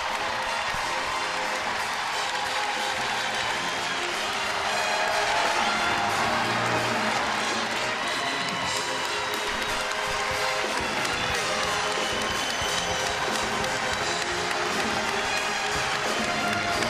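A packed arena crowd roars and applauds at a UConn versus Providence women's basketball Big East Tournament quarterfinal, a continuous loud wall of cheering that swells in the middle, with a commentator talking over it.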